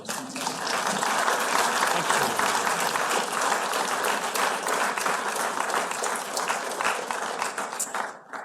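A gathered audience breaks into loud, sustained applause, a thick continuous clatter of many hands that holds steady before tapering off at the very end.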